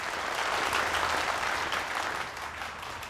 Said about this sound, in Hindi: ऑडियंस इसलिए तालियां बजा रही है